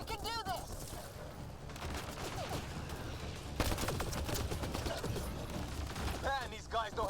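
Gunfire from the sci-fi shooter Mass Effect Andromeda, dense overlapping bursts and volleys running throughout at steady loudness, with other game sounds mixed in.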